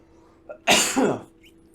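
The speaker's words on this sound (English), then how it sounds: "still coughing all over the place." One loud, explosive cough bursts out close by, a short harsh burst followed by a rough tail, with no talking around it.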